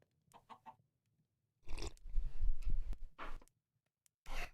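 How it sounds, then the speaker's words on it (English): Chickens are slaughtered in the video game Minecraft, giving short clucks and squawks followed by a burst of crunchy hit and damage sounds, then a pause and another sharp burst. "Yeah, Matt, I think you will really like the slaughtering of all the chickens."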